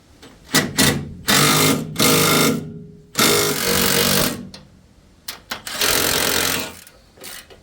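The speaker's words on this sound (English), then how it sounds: "Whatever I can get with the rattle gun, I'll tighten up and take the chains off." A pneumatic rattle gun tightens wheel nuts on a Mitsubishi Magna street stock race car, firing in several loud, sharp hammering bursts of about a second each with short pauses between them.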